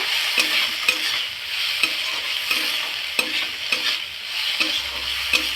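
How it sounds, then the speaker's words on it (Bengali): Potatoes with Kashmiri chili powder and spices are sautéed in a pan, a continuous sizzle broken by repeated scraping stirs of a spatula at an even rhythm. "ভালো করে সমস্ত উপকরণগুলোকে ভালো করে আলুর সাথে কষিয়ে নেব"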